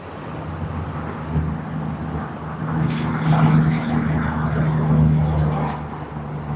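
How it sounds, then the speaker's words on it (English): A Sri Lankan Airlines Airbus A330 passes at Sydney Airport, a jet engine drone that swells and fades over several seconds with a low steady hum beneath and some faint background noise. "just passing on my left hand side is Sri Lankan Airlines Airbus A330"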